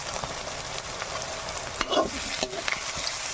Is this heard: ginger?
yes